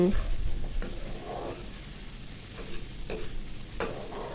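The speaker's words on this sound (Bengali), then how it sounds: "এভাবে নুডলসটা মশলার সাথে মিক্স করে দিব" Maggi vegetable noodles tossed with spices in a pan, giving soft repeated scraping stir strokes over a gentle sizzle, close by and fairly quiet.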